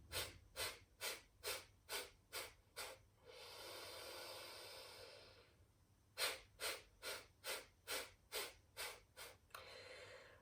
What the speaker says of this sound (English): the idea is you don't inhale in between, you just pulse it out